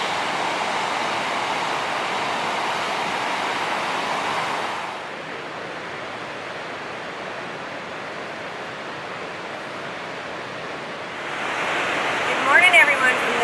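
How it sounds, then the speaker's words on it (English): Continuous rushing roar of the Colorado River rapids in the Grand Canyon, a broad watery wash that dips quieter midway before swelling again. "roaring rapids of the Colorado River"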